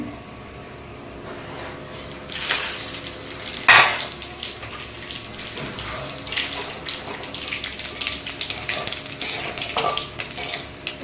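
Cumin, nigella seeds, bay leaf and dried red chili frying in leftover hilsa fish oil, a steady close sizzle with spoon stirring and scraping against the pan, plus a few sharper clinks.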